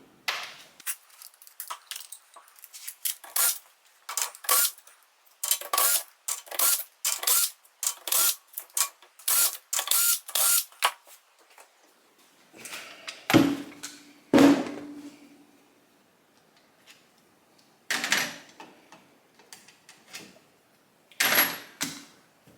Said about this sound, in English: Take those 9 bolts out, and then I can put the puller on.